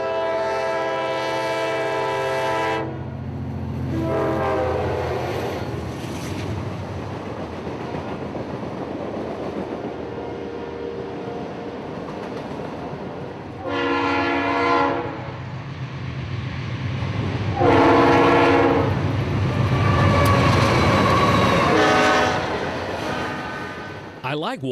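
CSX freight train Q603 passing at trackside, with a loud, prolonged horn sounding in several blasts over a continuous rumble of wheels and railcars.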